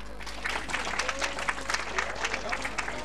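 A crowd at a student prize announcement claps, a steady, dense patter of many hands, fairly close and even throughout, with a low background hum.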